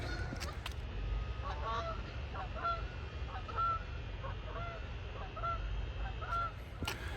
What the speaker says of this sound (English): The geese have something to say about it.